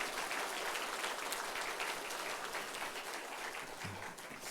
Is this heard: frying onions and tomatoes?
no